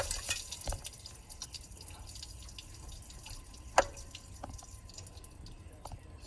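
Water drips from a removed water pump of a Jeep Liberty 3.7L V6 during a repair. Scattered small drips and splashes land irregularly, faint and close, with one sharper drop standing out partway through.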